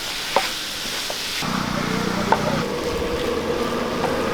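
Beaten egg with onion and chili stirred into a hot pan for egg thoran, a steady sizzle with occasional spatula scrapes and clicks against the metal.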